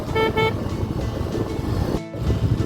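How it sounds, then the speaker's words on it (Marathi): Two short horn toots sound close together at the start from a motorbike on a highway, followed by road and engine noise. "आपण हॉर्न वाजवत राहूया"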